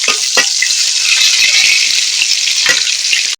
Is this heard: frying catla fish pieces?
yes